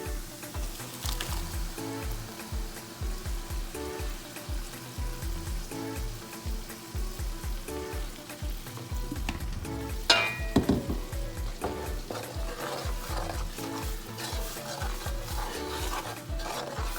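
Egusi blend sizzles and fries in a pot for Nigerian egusi soup, a steady crackling hiss broken by rhythmic scraping stirs, close and loud with no talk.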